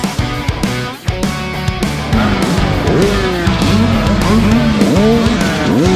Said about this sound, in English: So he's running with a completely loud bike.